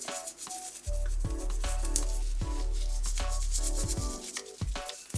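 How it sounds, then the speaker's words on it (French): Brushing the palate of a dental prosthesis with a toothbrush using a rolling motion, giving steady close scrubbing strokes broken by brief pauses, with a deep low hum running beneath. "Vous utiliserez la même technique que le brossage de dents en bouche, c'est-à-dire en rouleau, pour enlever les débris alimentaires"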